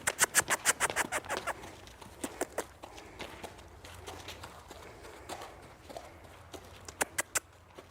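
A horse walks during a training session, its hooves clip-clopping in a quick, sharp run at first, then in sparser, softer steps, with faint background noise.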